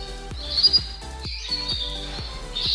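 Canaries in an indoor aviary give quick repeated chirps and short high trilling calls, close and clear over a low steady background hum.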